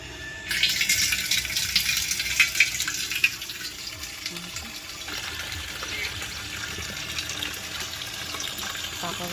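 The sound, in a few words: filling water pots from a tap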